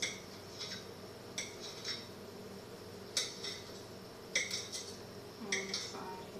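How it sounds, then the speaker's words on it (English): Knife cutting cooked beets into little slices on a board, giving a series of soft, irregular clicks and taps that recur every second or so, close and fairly quiet with no talking. "You want to slice them again. Little bitty slices like this."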